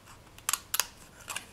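Scissors snip through a sheet with a protective film during a polymer clay pendant project, giving three or four crisp, close cuts in quick succession, with no one speaking.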